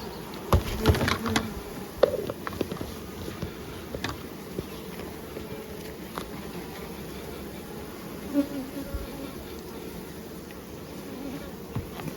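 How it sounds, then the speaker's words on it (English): Honey bees buzz steadily close by at a hive in the heat, a droning hum broken by occasional knocks and taps. "Get the bees down the bottom."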